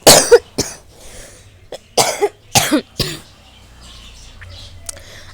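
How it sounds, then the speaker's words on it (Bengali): Several harsh coughs from a person with a bad cold, in irregular bursts at close range, then quiet with faint room sounds. "মাঝে মাঝে ভিডিওতে ভয়েস দিতে গিয়ে আমি কেশে ফেলছি"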